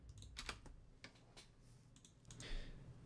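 Faint, irregular clicking of keys on a computer keyboard, a handful of soft taps scattered across a few seconds in a quiet room.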